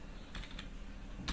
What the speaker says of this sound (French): Le bruit que cause le clavier.